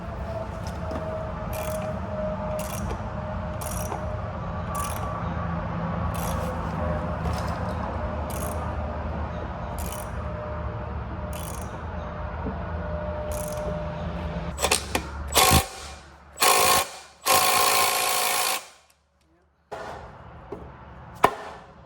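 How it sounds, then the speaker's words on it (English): A steering wheel puller ratchets on a 1990 Yamaha Waverunner, regular clicking strokes over a low background hum, ending in a few louder clanks and grinding bursts as the tool is worked harder. "I got a steering wheel puller and some bolts, and we're gonna see if this thing's gonna pop off."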